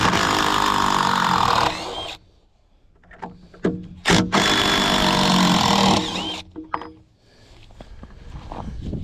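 A power drill backs screws out of a run inside a shelter, in two loud, steady bursts of whirring separated by quieter clicks and handling noises.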